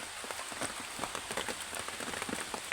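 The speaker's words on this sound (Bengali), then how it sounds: "বৃষ্টি হইতেছে।" Steady rain falls on surfaces around a garden, with dense patter and scattered distinct drops throughout, fairly close and continuous, with no talk.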